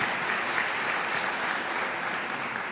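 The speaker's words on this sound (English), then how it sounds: "I also think this one requires a round of applause." A large crowd applauds at a university graduation ceremony, giving a dense and even wash of clapping that holds steady throughout at a moderate loudness.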